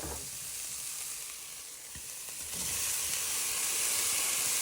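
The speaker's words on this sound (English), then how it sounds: "then we'll add in our fresh tomatoes, what we have chopped" Fresh chopped tomatoes hitting a hot pan of onions and garlic for a prawn spaghetti sauce, a close steady sizzle that swells louder partway through, no talking.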